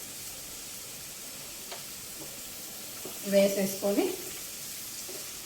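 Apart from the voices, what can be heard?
ridge gourd and potato curry frying in pan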